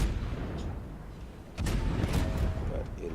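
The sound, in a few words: warship guns firing HE shells in a naval video game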